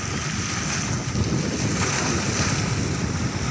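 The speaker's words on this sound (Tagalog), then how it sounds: "ito lang po yung dagat namin sobrang linis po" Sea waves washing near a bridge by a clean shore, a steady broadband surf roar mixed with wind rush on the microphone, loud and continuous without talk.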